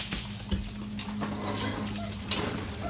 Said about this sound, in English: it looks like there's some big dogs in here